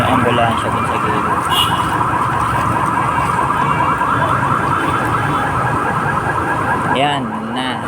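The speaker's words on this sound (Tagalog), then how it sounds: "At may ambulansya din sa gilid." An ambulance siren wails continuously and loudly beside a flooded area where people use a boat, its rising and falling tone holding steady over a busy background.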